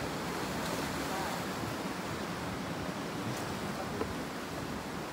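Ocean waves rolling onto a south coast beach in Indonesia, a steady broadband roar of surf and wind noise that fills the whole clip without pause.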